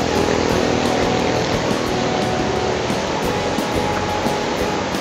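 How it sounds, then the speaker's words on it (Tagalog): River water in Laguna rushes with a steady, loud, broadband roar, continuous and unbroken throughout, with no voices over it. "Nandito tayo sa ilog."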